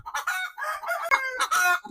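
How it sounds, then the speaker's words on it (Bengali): Layer hens at an egg-producing poultry farm cluck and squawk loudly and close by in a series of overlapping calls, with one bird breaking into a drawn-out crowing cry. "এখন তো এগুলো ডিমের মুরগি এখন এগুলো লেয়ার"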